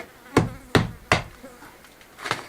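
A lump hammer strikes loose material on a courtyard wall being prepared for pointing: four sharp, evenly spaced knocks, close and loud, with short pauses between and a buzzing insect faintly audible.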